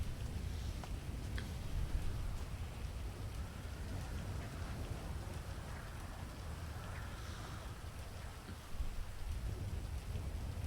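Constant heavy rain with low rumbling thunder in a role-play video game storm, a dense, steady wash of sound with no talk.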